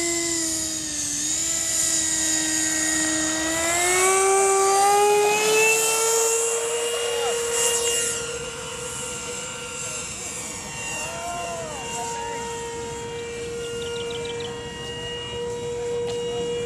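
An electric ducted-fan model Mirage 2000 jet whines at an RC flying field, a loud, high, sustained fan tone that climbs in pitch and then holds steady, with a faint voice briefly underneath.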